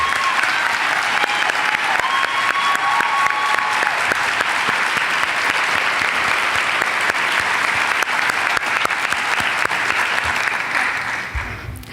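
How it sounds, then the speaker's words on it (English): Loud, sustained applause from a large crowd at a high school graduation, steady clapping that fades slightly near the end. "Join me in giving Ashley Baker a round of applause."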